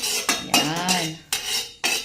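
A utensil scrapes and clinks against a hot cooking pan while stirring a dish, with repeated loud, close strokes and a brief squeaky scraping tone between them.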